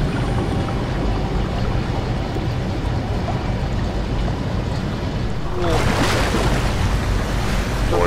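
Water drains after a toilet flush in the sci-fi horror video game SOMA, a steady rushing wash that swells louder and brighter toward the end.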